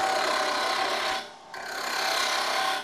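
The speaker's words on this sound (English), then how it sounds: "Start the lathe and proceed with the next cut." A wood lathe with its spindle turning while a tool takes light cuts on a workpiece, giving a steady close rasping, scraping whir that briefly dips quiet midway before resuming at full strength.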